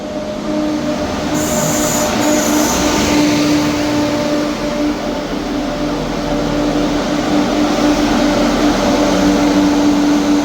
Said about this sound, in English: Departing out now is the 1700 ScotRail service from Leven to Edinburgh Waverley.